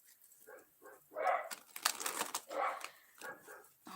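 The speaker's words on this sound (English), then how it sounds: "my God, the dogs" Several dogs barking in short, uneven bursts at moderate distance, with brief gaps and a few sharper yips between louder volleys.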